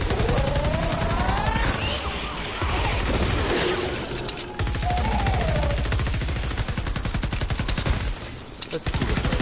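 Rapid automatic weapon fire rattles almost nonstop in Fortnite Save the World, loud and close, in dense bursts with brief pauses and a few heavier impacts mixed in.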